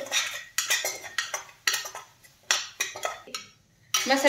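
Spices such as cumin powder, garam masala, coriander powder and turmeric sautéed in a pan for cashew curry, a metal spoon scraping and clinking against the pan in repeated close strokes with brief pauses between.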